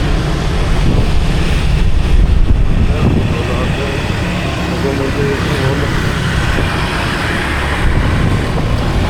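Sea waves at a beach, a loud continuous rush of surf mixed with heavy wind buffeting the microphone, steady throughout with no clear breaks between waves.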